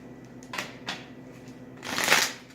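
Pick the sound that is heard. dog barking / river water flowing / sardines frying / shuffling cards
shuffling cards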